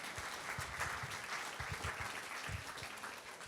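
Audience applause at a library talk on great pianists of the past: steady, dense clapping from a crowd, fairly soft and distant, continuing without a break.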